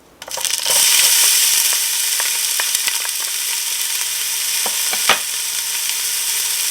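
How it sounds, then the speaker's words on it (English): Chopped onion hitting heated olive oil in a pan, a sudden loud, close sizzle that settles into steady frying with scattered crackles and spoon clicks, no talking. "The oil is heated up, so now I'm adding my onion"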